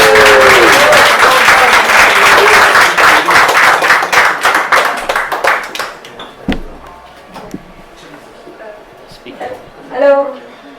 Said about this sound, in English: We can continue with the applause